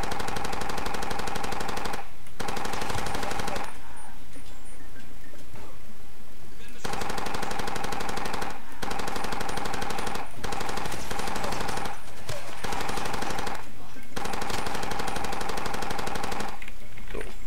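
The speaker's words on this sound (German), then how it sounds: "jetzt gehen wir mal ein bisschen mit dem Maschinengewehr bei der nächsten Situation vor" Sustained automatic gunfire from a machine gun in the video game Far Cry 2, loud and dense, in long bursts that stop several times for short gaps, over steady game background sound.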